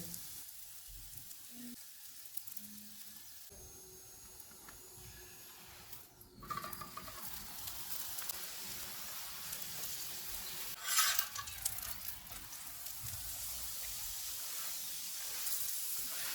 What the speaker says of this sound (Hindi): इस पे घी लगाएंगे और दोनों साइडों से पका लेंगे।